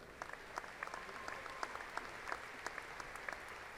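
An audience at a fall commencement ceremony at Angelo State University applauds the graduates: scattered, fairly faint clapping from a distance that runs steadily throughout.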